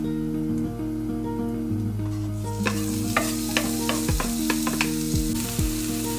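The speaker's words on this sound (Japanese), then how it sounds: "フライパンが温まりましたら玉ねぎを入れていきます" Onions hit a heated, lightly oiled frying pan midway, and a bright sizzle rises over a steady low humming tone, with sharp scraping taps from stirring toward the end.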